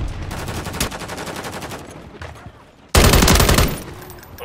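Rapid automatic gunfire in a Call of Duty multiplayer objective match, with sustained loud bursts of shots, a short lull, then an even louder close-range volley.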